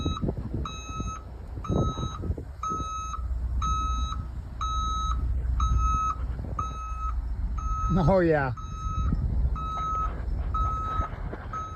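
Reversing alarm on a skoolie bus fitted with upgraded reverse lights, beeping in a steady repeating pattern through the whole stretch, fairly close and loud, with someone talking over it.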